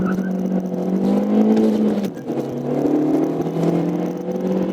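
A 2020 Volkswagen Polo sedan with a naturally aspirated 1.6-litre, 90 hp engine launches hard, its engine note rising steadily, dropping briefly at a gear change near the midpoint, then climbing again, loud and close from inside the car.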